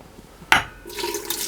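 Lukewarm water is poured into the bowl of an Ankarsrum stand mixer holding an overnight starter, a brief close splash followed by a steady liquid rush that continues to the end.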